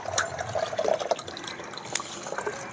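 Water splashes and trickles steadily onto garden plants' leaves and soil, a close, continuous pour of liquid fertilizer with a few brighter drips and spatters.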